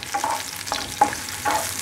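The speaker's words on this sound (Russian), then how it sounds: "Также обжариваю лук и... Так, куда я делаю? Лук и чеснок на сковородке." Onion and garlic frying in a pan, a steady sizzle with a few brief stirring scrapes, close and moderately loud.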